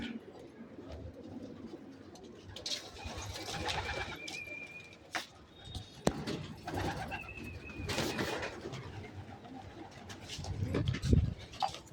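Pet pigeons cooing softly in a loft, with repeated low throaty calls, scattered bird chirps, and a few clatters and faint voices in the background.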